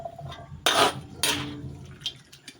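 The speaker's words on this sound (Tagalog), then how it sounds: "And then put sa konting water." Water poured into a cooking pot of chicken, two short splashing pours with faint clinks of the pot, close and moderately loud, no talking.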